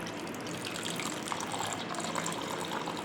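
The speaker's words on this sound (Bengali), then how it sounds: "পান্তা ভাতের জলটা কম হয়েছে এর মধ্যে জল আছে আমি আরেকটু জল ঢেলে" Water poured into a bowl of panta bhat, fermented rice soaked in water, a steady continuous gushing splash of liquid filling close by, running unbroken for a few seconds without any talking.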